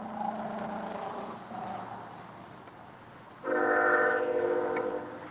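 A train passes, a low rumble giving way to a loud sustained horn blast that sounds fairly near, with no talk over it.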